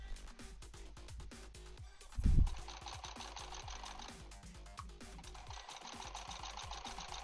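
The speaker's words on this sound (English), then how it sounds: "I'm going to my machine, and I'm sewing it just like this." A sewing machine stitches scrappy quilt blocks in short, rapid bursts between quieter pauses, with a brief louder thump partway through.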